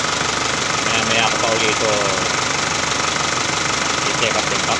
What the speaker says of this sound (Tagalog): parang wala naman dami sa makina dahil hindi naman siya namatay sa andar